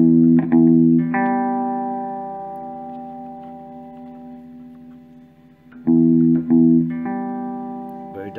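Electric guitar chords played through an echo pedal for rockabilly, with the tone control darkening only the repeats, ring out and decay with audible echoes, struck twice in separate bursts.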